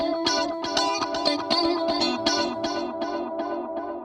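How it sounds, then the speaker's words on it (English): Music processed through EP34 and RE201 tape echo emulations, rhythmic bright repeated notes with distorted, echoing tails decaying steadily, no voices. "EP34 and RE201 tape echoes"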